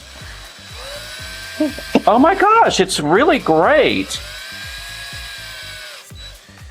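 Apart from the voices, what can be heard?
power drill drilling into a carrot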